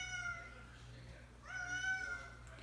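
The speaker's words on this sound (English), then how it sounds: "it's my cat being completely annoying" A domestic cat meows twice near an aquarium setup, a drawn-out cry followed by a louder, rising second meow over a steady low hum of equipment.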